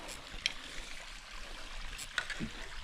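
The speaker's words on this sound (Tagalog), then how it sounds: "mahina na yung tubig dito sa sapa natin dito, mahina na, pero malinis siya" A shallow, low-flowing, clear creek on a farm trickles softly and steadily, faint and continuous, with a couple of small splashes or drips standing out.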